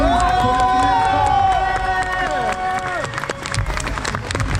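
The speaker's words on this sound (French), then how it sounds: "faites un tonnerre d'applaudissements pour vous" Crowd cheering and applauding at a French esports gaming event, loud and close, with clapping and shouts under sustained voices and music.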